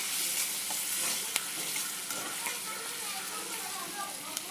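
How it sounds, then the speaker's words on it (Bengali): Garlic fries in hot oil in a pan while fish head is cooked for Bengali rohu fish curry, giving a steady, close sizzle with small pops and occasional stirring clinks; a voice speaks faintly underneath. "দিয়ে এর সঙ্গে একটু ভেজে নেব।"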